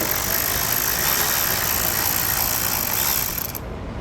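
A 7mm socket loosens a bolt on the lower fascia bracket of a 2021 Chevrolet Colorado, a dense, steady mechanical whir and clatter running close for several seconds before cutting off abruptly.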